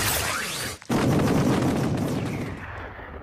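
A bullet explodes in a character's mouth in an anime fight scene: a loud, close blast cut by a brief gap, followed by a sustained roaring burst that slowly fades.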